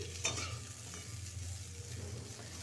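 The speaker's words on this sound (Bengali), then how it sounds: "আলু বড়ি ফুলকপি ভেজে নিচ্ছি" Potatoes, bori lentil dumplings and cauliflower fry in oil in a pan over a high flame, with a steady close sizzle and occasional stirring scrapes and no talking.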